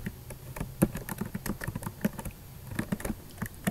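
Code is typed quickly on a computer keyboard during a Python SQLite tutorial, a close, steady patter of clicky keystrokes with no talking.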